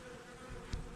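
Honey bees buzz faintly around a stacked nucleus hive being cleaned out, a low continuous hum with one louder bee passing close for a moment.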